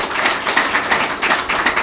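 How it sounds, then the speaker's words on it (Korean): An audience at a political campaign speech applauds, a dense, steady wash of many hands clapping close by, with no talk over it. "박수!"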